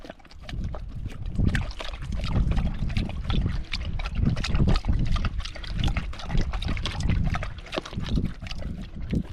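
A dog laps water steadily on a trail, rapid wet slurping strokes close up that continue for several seconds without pause.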